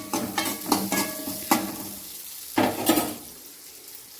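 Sliced big onion and four green chillies stir-fried in a pan for a chutney, with repeated sizzling bursts and scrapes of a spoon against metal, close and fairly loud, fading quieter toward the end.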